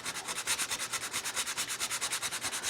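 Steady rhythmic rasping of a tool shaping cherry wood for a small plate across the grain, even back-and-forth strokes repeating quickly, close and moderately loud.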